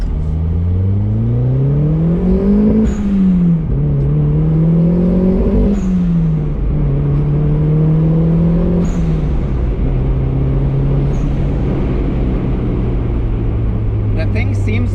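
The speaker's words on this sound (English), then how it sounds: "it's certainly breaking up under high boost now" A budget turbocharged Mazda Miata at 14 psi boost drones loudly with rising and falling engine pitch as gears change, the note sputtering and breaking up under high boost, with no talking.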